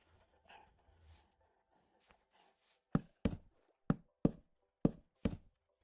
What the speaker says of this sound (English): You're an aggressive dog, aren't you? I hear you.